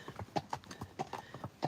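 A horse's hooves clip-clop on a road in a steady walking rhythm, each hoof striking crisply and close, with no talking.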